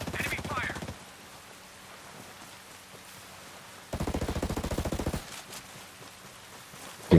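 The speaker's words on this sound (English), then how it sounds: "I hear gunfire" In the video game Ghost Recon Breakpoint, rapid automatic gunfire rattles in two bursts, one brief at the start and a longer one midway, with quieter ambience between them.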